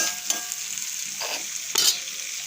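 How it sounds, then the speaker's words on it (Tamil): Dried fish and onions fry in a pan while being stirred, a steady close sizzle broken by a few scraping stirs of the utensil, with no talking. "நான் அப்படியே கிண்டிக்கிட்டே கழிதான் இந்த வெங்காயம் வதங்குற வரைக்கும்."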